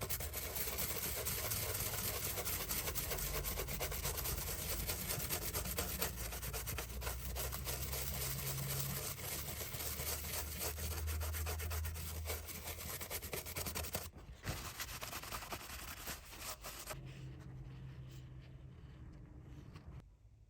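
Scrubbing and wiping a Game Boy cartridge clean with isopropyl alcohol, a steady close rasping rub that runs continuously before tapering off near the end.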